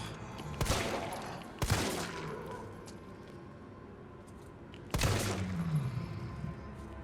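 Three separate loud gunshots ring out in the Resident Evil 3 remake as headshots land on a zombie, each followed by a decaying echo, with quiet ambience between.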